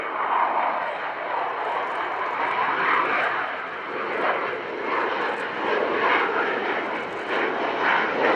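A Boeing F/A-18 Super Hornet makes a fly-by at the RIAT 2015 Fairford airshow. Its loud, sustained jet roar swells and eases over several seconds, with a commentator's voice over it.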